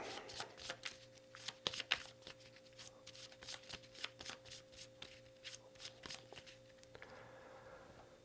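A deck of cards being shuffled, with quick rippling flutters and soft snaps repeating close by, fairly quiet, with no talking.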